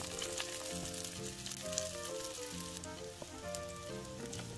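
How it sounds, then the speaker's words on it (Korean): Korean shrimp pancakes dipped in egg wash sizzle gently in a pan over low heat, a steady close crackle with faint spatters under soft background music. "뒤집어서 불은 약불로 맞춥니다. 타지 않게 노릇하게 잘 지져줍니다."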